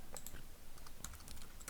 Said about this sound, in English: Now if I start typing